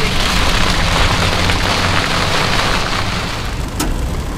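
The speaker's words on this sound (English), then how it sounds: "It was raining so hard I couldn't really see very good." Heavy rain pounding a vehicle while driving through the Ouachita area, a steady loud broadband wash with low rumble throughout, no talk.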